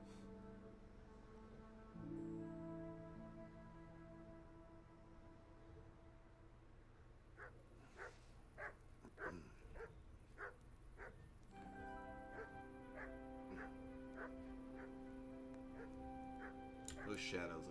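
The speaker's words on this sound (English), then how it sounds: "Those dogs just won't stop barking." Dogs bark in the medieval setting of Kingdom Come: Deliverance, a few faint distant barks in loose bursts over steady background music.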